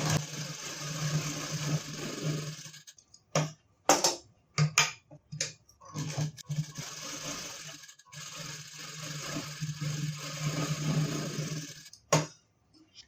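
Sewing machine stitching a seam on a gown being taken in for fitting, running in several bursts of rapid mechanical clatter broken by brief stops and short starts, close and fairly quiet.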